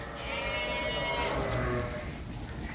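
Sheep bleating continuously in a milking pen on a cold, damp morning as the flock is released up for milking, a dense overlapping chorus of nearby animals with no pause.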